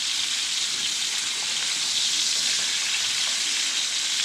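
Sous vide duck breast sears in a hot pan, its rendering fat giving a steady, close, even hiss of sizzling with no other sounds.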